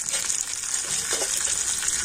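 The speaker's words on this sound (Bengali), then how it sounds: "তো সমস্ত কিছু তেলের উপরে ভেজে নিচ্ছি।" Cumin seeds, a dried red chilli and curry leaves fry in hot oil, producing a loud, continuous hissing sizzle with a faint bubbling texture.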